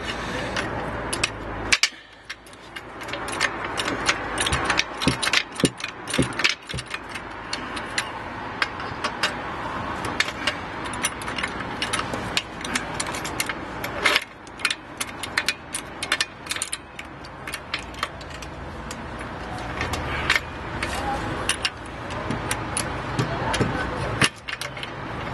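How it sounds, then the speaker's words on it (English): Jack being worked to raise the rear axle of a Peugeot 207, giving repeated metallic clicks and ratcheting mechanism sounds close by over a steady background, with occasional louder knocks throughout. "and then start jacking it up."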